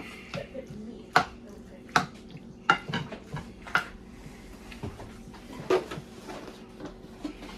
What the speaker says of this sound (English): Give this a little stir. Break it up a little bit.